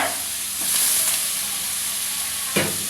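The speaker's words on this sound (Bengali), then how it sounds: "গোস্তগুলো এর মধ্যে দিয়ে দেব।" Fresh chicken pieces dropped into a hot kadai with bay leaf and cardamom, a loud close sizzle that swells as the meat goes in, then settles into steady hissing with a final scrape.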